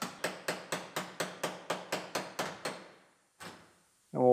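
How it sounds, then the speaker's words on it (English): A makeshift breaker knocks spot welds loose on a car body panel in a steady series of about a dozen sharp metallic taps, then one more tap after a short gap and a final clunk. "Now we can take our makeshift breaker, slide it down this panel, break all these spot welds loose on the back."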